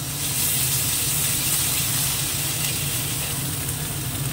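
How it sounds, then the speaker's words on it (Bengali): Grated onion with ginger paste and garlic paste sizzles in a hot pan, a steady, close, fairly loud hiss with faint stirring underneath and no talk. "দিয়ে দেবো এই যে গ্রেট করা পেঁয়াজটা, দিয়ে দেবো আদা বাটা, আর একটুখানি হালকা ফ্লেভারের জন্য এতটুকু রসুন বাটা,"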